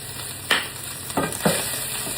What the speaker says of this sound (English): Maybe we better stir this up.